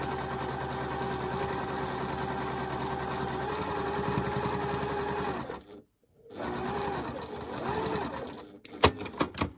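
A sewing machine runs steadily at close range, stitching a second seam around a fabric storage pod project, then stops briefly, resumes, and finishes with a few sharp mechanical clicks.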